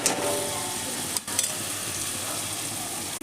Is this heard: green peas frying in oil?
yes